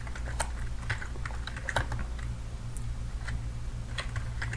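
Computer keyboard being typed on to enter a Kali Linux terminal command, irregular bursts of quick, close key clicks with short pauses over a low steady hum, no talking.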